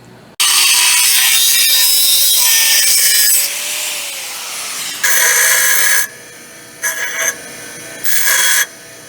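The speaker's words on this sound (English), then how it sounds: "Let me get this tab cut and drilled." Harsh, broadband cutting noise of a metal tab being cut runs steadily for several seconds, then stops and restarts in short bursts; loud and close, like a saw or grinder.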